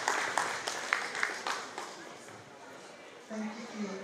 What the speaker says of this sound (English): A round of applause for Lisa,